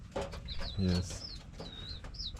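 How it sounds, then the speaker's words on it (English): Small chickens on a home property give high, thin calls in short bursts near the mic, mixed with a person talking. "And I'm seeing some of our chickens are over here."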